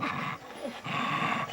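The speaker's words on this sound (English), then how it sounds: "A lot of growling and attitude already" Several dogs in training as tiger hounds growl and snarl in low, rumbling bursts, fairly close, with a brief dip partway through before the grumbling resumes.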